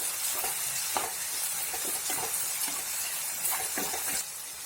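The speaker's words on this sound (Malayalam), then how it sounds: "നമുക്കൊന്ന് നന്നായിട്ട് ഇളക്കി കൊടുക്കാം." Dried prawn curry (mappas) bubbles and sizzles steadily in a pan while a spoon stirs it, with scattered scraping strokes over a constant close frying hiss.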